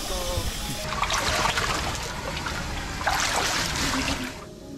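Groundwater trickles and splashes steadily through a flooded tunnel with knee-deep water mixed with stone, steel and wood debris, a continuous liquid wash that swells twice, with a low machine hum beneath.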